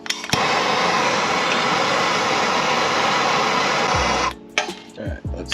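An impact wrench hammers loudly and steadily at a bolt on a Mitsubishi Evo X for about four seconds, then cuts off, leaving a few short clanks and scrapes nearby.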